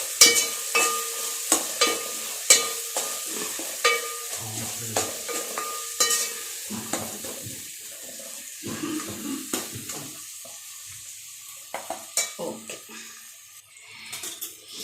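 Spices frying in oil in a pan for soya rice bath, a light sizzle under repeated clinks and scrapes of a stirring spoon, close by, with occasional water-like splashes.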